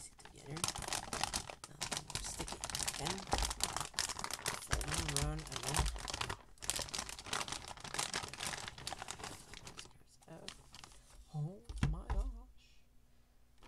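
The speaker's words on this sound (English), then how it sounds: "fold this tape over the plastic right there. Squeeze it together. Now stick it again." Tape is folded over crinkly plastic packaging from an MSI GeForce GTX 960 4GB graphics card, giving dense, continuous close crinkling and rustling with a few brief pauses. A voice speaks intermittently over it.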